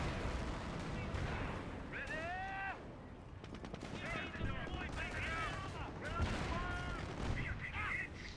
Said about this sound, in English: the AT gun is just getting shot after shot